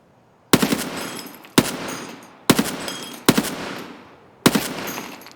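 Five loud, close gunshot bursts ring out in Escape from Tarkov, each a sharp crack with a short decaying tail, spaced roughly a second apart.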